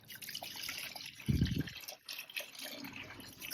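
A small amount of water is poured into a container to mix grout, a brief liquid splash and trickle amid soft handling noise, with no talk.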